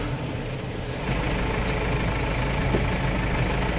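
A tractor engine idles steadily during an apple harvest, a close, constant low rumble with a slight rise in level after the first second and no voices.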